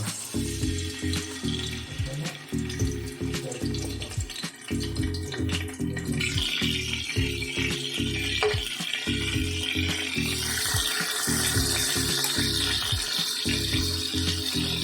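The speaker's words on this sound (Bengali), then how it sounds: "এই মাছটা কিন্তু আমি এবার আস্তে আস্তে গরম তেলে দিয়ে দেবো ভাজার জন্য" Marinated pabda fish going into hot oil in a home kitchen, a steady loud sizzle and hiss of frying that swells and stays dense, with clatter and stirring knocks underneath and no talking.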